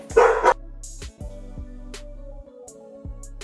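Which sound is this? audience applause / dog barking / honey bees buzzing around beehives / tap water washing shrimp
dog barking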